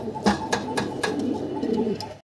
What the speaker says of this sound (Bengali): নর ডাকাডাকিতে ব্যস্ত